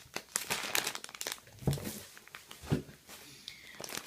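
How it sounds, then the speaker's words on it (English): Plastic packaging crinkles close by in repeated bursts, crackling and rustling throughout as it is handled among yarn. "Sorry for the crinkling."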